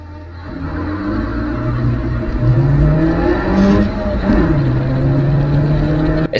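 Race cars accelerating off the line at the start of a heat, engines climbing through gears with rising and dropping pitch sweeps, loud and close, a dense continuous roar.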